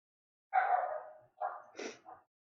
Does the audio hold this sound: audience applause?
no